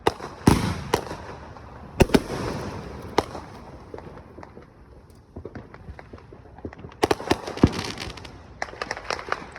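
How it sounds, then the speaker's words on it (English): Fourth of July fireworks burst and crackle around the listener, sharp loud bangs at scattered intervals followed by dense crackling bursts, some near and some farther off, with no one speaking. "I got fireworks behind me."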